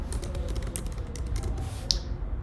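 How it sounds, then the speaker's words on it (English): Quiet clicking keystrokes on a computer keyboard, a steady run of light taps close by with no talk over them. "So I'm going to type in"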